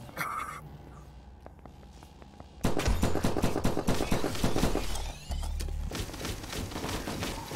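Uzi fire in the video game From Space on Steam Deck: quieter scattered shots, then loud, rapid automatic bursts rattling on for several seconds with a short break.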